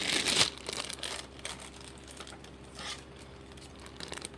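Christmas candy bag being cut open with scissors: a loud burst of plastic crinkling and tearing at the start, then softer intermittent rustling and crinkles of the bag close by.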